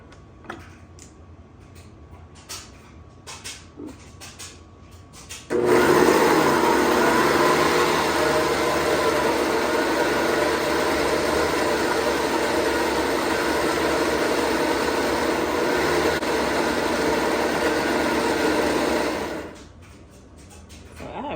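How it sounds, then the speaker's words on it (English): A blender blending quinoa roars steadily for about fourteen seconds, a loud continuous whir that starts abruptly and cuts off, with faint clicks before it. "Pretty good blender."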